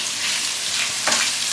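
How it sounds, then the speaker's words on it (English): Tofu stir fry sizzles in a hot pan, a loud, steady hiss of frying with a brief flare of crackle partway through, heard close up and alone. "So hopefully you can hear it sizzling, because the pan is nice and hot."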